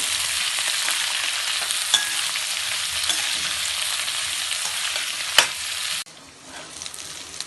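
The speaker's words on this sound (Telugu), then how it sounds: "ఇలా బ్రౌన్ కలర్లోకి వచ్చే వరకు వేయించుకున్నానండి" Fenugreek leaves fry in a pan until brown, giving a steady loud sizzle with a faint stirring tick, then the sizzle drops suddenly near the end.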